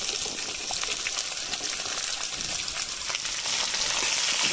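Cleaned small onions (shallots) fry in a pan with a loud, dense, continuous sizzle and crackle, and no talking.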